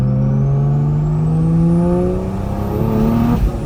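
A BMW B58 inline-six revs hard at full throttle in a video game, a loud steady engine drone climbing in pitch for over three seconds before easing off near the end.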